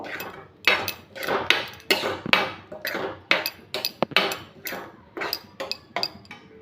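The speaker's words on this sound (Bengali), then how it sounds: "যতক্ষণ না শুকনো হয়ে যাচ্ছে ততক্ষণ আমি নাড়িয়ে যাব" Mango barfi mixture being stirred in a pan until it dries to a soft dough, with rapid, regular scraping and clinking strokes, roughly two per second, close and fairly loud with no talking.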